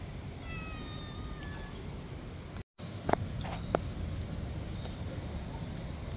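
Several brief meows from a cat at Saigon Zoo, faint and somewhat distant, followed by a couple of sharp knocks against a steady outdoor background hum.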